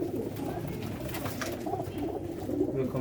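Black-faced fancy pigeons coo in a soft, continuous low murmur, several birds overlapping at moderate distance with a steady background hum.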